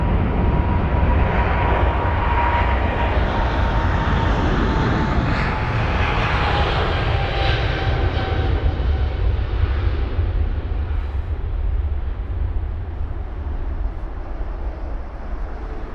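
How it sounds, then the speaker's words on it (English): American Airlines airliner moving at London Heathrow around sunset, a loud near jet roar that swells and shifts in pitch as the aircraft passes, then slowly fades toward the end, without any voices. "The American airliner is on the move."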